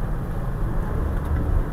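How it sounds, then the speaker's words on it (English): A car engine gives a steady, heavy low rumble with a constant drone from inside or close by, and no voices over it. "Car is noise, man, very loud."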